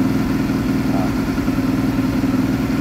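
A motorcycle fitted with a GP oneCrabon exhaust is held steady at 2,000 RPM, giving a loud, close, even engine drone with a throbbing low pulse throughout.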